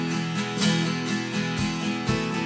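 An acoustic guitar is strummed in quick, even sixteenth-note down-up strokes, chords ringing continuously at a steady moderate volume.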